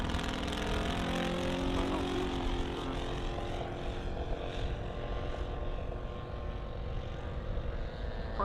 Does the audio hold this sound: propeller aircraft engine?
yes